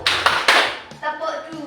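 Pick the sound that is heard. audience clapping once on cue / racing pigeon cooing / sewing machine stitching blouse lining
audience clapping once on cue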